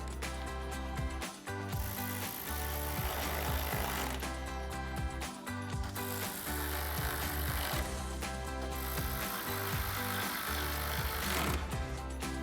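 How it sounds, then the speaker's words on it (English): A ratchet with a 10mm socket tightening bolts on a 2009-2014 Ford F-150 grille, rapid clicking bursts in several bouts with short gaps between, close and fairly quiet, no talking. "Then we'll grab our ratchet and 10mm socket and tighten them down."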